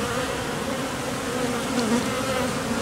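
Honeybees buzzing steadily around a hive frame as newly emerged bees crawl out of their cells, a close, continuous drone that stays level throughout.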